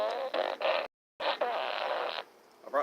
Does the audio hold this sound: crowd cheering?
no